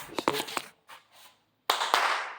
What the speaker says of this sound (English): This time I'm going to try to be more fair and clap.